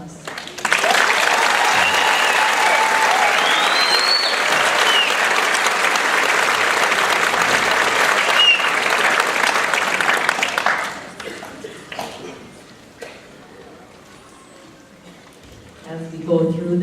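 Loud, sustained applause from a high school graduation audience in Ely, Minnesota, filling a hall for about ten seconds before tapering off into quieter room noise and a few claps.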